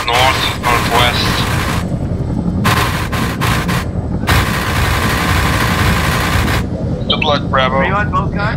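Friendly weapon fire in ARMA 3 during a MARSOC co-op helicopter insertion: long sustained bursts of heavy gunfire over a constant rotor drone, with radio voices chattering between the bursts.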